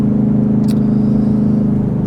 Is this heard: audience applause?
no